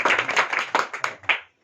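A small audience at a farming talk gives a short burst of clapping, a dozen or so distinct claps in an uneven rhythm close by, the last one sharp before abrupt silence.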